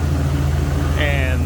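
A 7.5-liter V8 in a 1992 Ford F-250 XLT 4x4 idles with a steady, loud low rumble and an even pulse throughout, while a person talks over it near the end.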